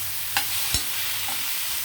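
Raw banana pieces are stirred in a pan with seasoning, a spoon scraping twice against the metal over a soft, steady sizzle, close and without talk.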